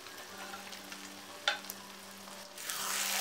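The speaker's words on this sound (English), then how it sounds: "Now we will add the boiled rajma or red kidney beans and cook with the onion tomato based gravy" Boiled red kidney beans going into a hot onion-tomato gravy set off a soft, steady sizzle with a brief sharp splash and clatter midway, and the frying hiss grows louder toward the end.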